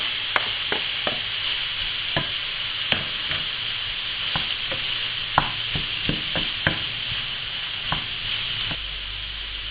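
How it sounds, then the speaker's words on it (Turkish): Garlic and chopped red pepper sautéing in a pan for patlıcan oturtma, a steady close sizzle with the repeated scrape and tap of a utensil stirring, no voices. "Kavurmaya devam ediyorum."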